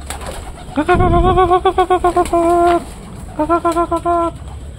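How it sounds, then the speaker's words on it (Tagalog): A pet pigeon gives loud, close cooing calls in two bursts of quick repeated rolling notes, with a short pause between them and no talking. "Hey, mga pigeon my love. It's my pigeon here."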